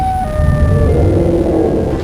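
Loud, continuous siren wail with falling pitch sweeps, cast as the cry of the Siren Head monster in an animated sci-fi action story, filling the whole short stretch with a dense electronic howl and no talking.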